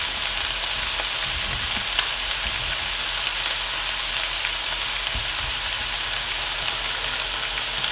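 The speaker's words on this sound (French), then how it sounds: "Je suis en train actuellement de mélanger pour que ça s'imbibe un peu d'huile." Vegetables, onions, peppers and precooked potatoes stirred while frying in oil in a pot, giving a loud, continuous sizzle with occasional scraping knocks of the stirring.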